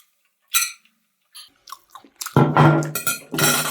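Someone chews and eats leftover bulgogi up close, with soft wet bites at first building into a louder, steady stretch of mastication.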